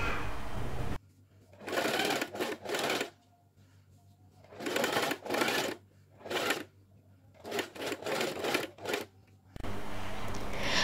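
A sewing machine stitching a turtleneck collar runs in several bursts of rapid needle clatter, separated by short pauses, close and fairly loud with no talking.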